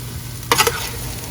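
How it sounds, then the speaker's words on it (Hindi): Baked okra (bhindi) on a tray being turned over with a spoon makes a quick scraping clatter of a few light knocks midway. Quiet kitchen room tone surrounds it, with no talk. "ओके, अब मैं भिंडी चेक करती हूँ। अभी हम इसको इस तरह से साइड चेंज करेंगे।"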